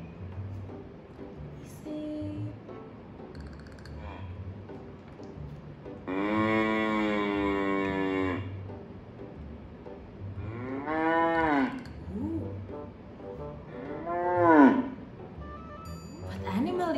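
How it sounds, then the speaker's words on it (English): Several distinct cow moos played one after another as an animal-sounds listening exercise, with one long sustained low moo and two shorter rising calls over faint background noise. "A cow sound."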